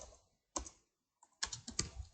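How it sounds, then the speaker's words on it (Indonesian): Quiet keystrokes on a computer keyboard come in short bursts separated by pauses, close and soft, with no speech. "Misalkan saya ketik di sini class"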